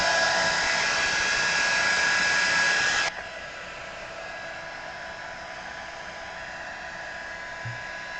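A hair dryer blows steady broadband air noise over magical paint on a pet portrait background for about three seconds, then drops to a lower, quieter hum for the rest.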